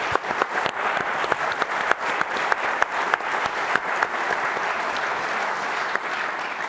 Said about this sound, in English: Please also join me in giving a round of applause in memory of Charles.